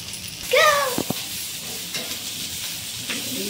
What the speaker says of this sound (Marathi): मस्त मुशी फ्राय झाली आहे आपली. चारी बाजूने फ्राय केली मस्त.